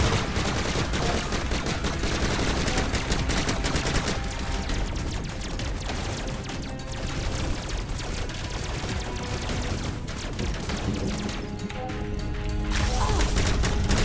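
Continuous gunfire from the starter gun in the video game Bombshell, dense rapid bursts of shots over a loud busy mix throughout, with no pauses.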